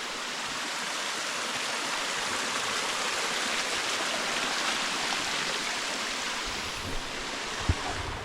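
Steady, loud rush of a waterfall at Dolphin Nose, Kodaikanal, a broad continuous roar of falling water that fills the whole clip without pause, with one or two faint knocks near the end and no voices.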